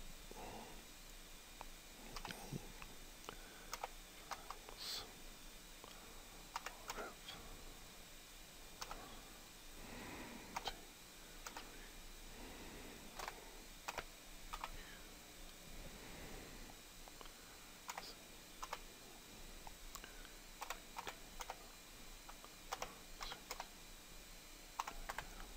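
Someone types a Windows 7 product key on a computer keyboard during setup in VirtualBox, giving a steady run of close, quick key clicks with small pauses and no talking.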